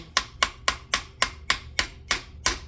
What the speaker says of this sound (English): using a socket 13/16 and just tapping it slowly